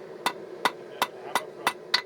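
Six sharp hammer strikes on metal while forging a blade, evenly spaced and ringing brightly, each hit crisp and close with a quick decay.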